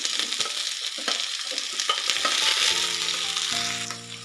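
Two medium onions and garlic fry in hot oil in a pan, making a constant loud sizzle with occasional stirring scrapes, and a tonal hum rises toward the end.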